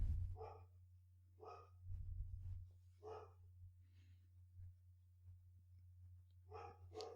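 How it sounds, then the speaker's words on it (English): Several dogs bark outdoors in short separated bursts, four or five volleys spread across the stretch, moderately distant, over a steady low hum, with no talking. "I don't know what they're barking at now"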